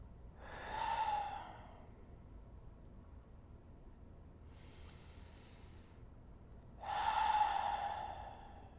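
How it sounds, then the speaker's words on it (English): Two slow, deep breaths, each a long breathy rush close to the microphone, with a softer exhale between them, over quiet background hiss. "Deep breathing is a mindfulness practice."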